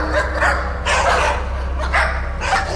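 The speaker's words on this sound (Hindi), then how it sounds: "बाहर बैठे 2 कुत्तों ने" Two dogs barking outdoors by a doorway at night, a cluster of loud, close barks and yelps that comes in three separate bursts over a steady low hum.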